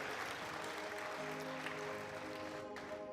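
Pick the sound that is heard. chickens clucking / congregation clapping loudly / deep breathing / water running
congregation clapping loudly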